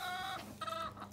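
Several hens, including Brahma and brown birds, cluck in a pen right after new hens join the flock, giving two close bursts of harmonic clucking with a short gap between them.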